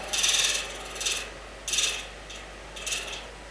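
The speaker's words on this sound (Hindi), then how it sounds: "देख भैया पंखा सनक गया है" A ceiling fan grinds and rattles mechanically during a religious speech, in several uneven bursts of clattering that rise and fade with short gaps. The sound is close and fairly loud, with no talk over it.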